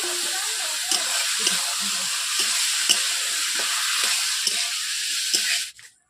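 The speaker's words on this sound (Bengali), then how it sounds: "এরপর আমি আলু পটল দিয়ে দিচ্ছি।" Potato and pointed gourd pieces hitting a hot oiled pan, a steady bright sizzle with scattered clinks and crackles as they are stirred, cutting off abruptly near the end.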